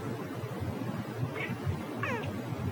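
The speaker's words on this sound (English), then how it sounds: "hey, I think the cat wants to say." A cat meows twice, a short mew followed by a longer, wavering call, set against a steady low background hum, with no one talking.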